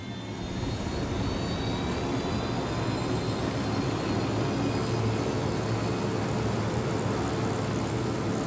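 Steady, loud rotor and engine roar of a helicopter in the video game Ghost Recon Wildlands, a continuous broadband drone with faint high whine held evenly throughout, no voices.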